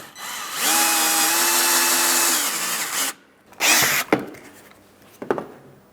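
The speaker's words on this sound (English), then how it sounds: "Same drill bit here." A power drill bores out a rivet on the front license plate bracket of a 2015-2025 Ford Transit 250, a steady loud whine for about two and a half seconds, then a short second burst and a few sharp metallic clicks.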